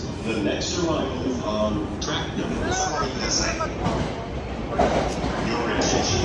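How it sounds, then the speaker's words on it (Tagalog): A new train pulls into a Tokyo station platform, a steady rumbling roar with rail clatter and squealing brake tones, while people talk nearby over the noise. "Ito na yung train natin."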